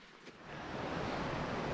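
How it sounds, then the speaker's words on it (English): A steady, close rush of a small waterfall on a mountain hiking trail, a continuous hissing splash that swells slightly after the first moment. "Check out this neat little waterfall I just came across."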